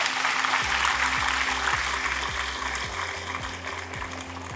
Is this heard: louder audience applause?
yes